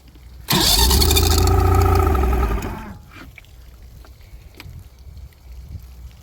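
An old outboard boat motor is cranked with a little throttle. A loud, close roar of cranking lasts about two seconds, then dies away into quiet background noise.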